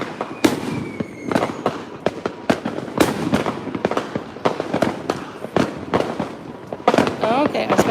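Fireworks burst on Christmas Eve in El Salvador: a rapid, irregular barrage of sharp cracks and bangs, some near and loud, others farther off, with faint voices in the background.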